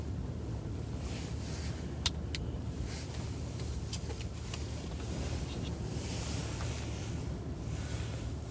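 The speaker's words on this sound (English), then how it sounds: "It actually sounds oddly peaceful out there right now with the wind." Wind blows outdoors during an Iowa blizzard, a steady broad roar and rumble that stays even throughout, with faint occasional clicks.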